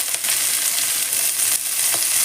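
Onion and garlic frying in a pan for gongura pickle, a steady close sizzle with faint crackles and stirring scrapes, no talking.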